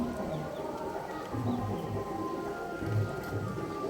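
Light rain falls steadily outdoors near a home kitchen area, making a soft, even hiss that runs throughout. Faint bird sounds can be heard in the background.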